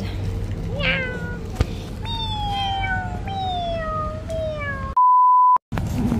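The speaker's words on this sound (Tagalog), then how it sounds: "Nakita ko ng pusa dito sa Thailand." A cat in Thailand meows several times in drawn-out, falling cries over a low background hum, then a steady electronic beep sounds briefly.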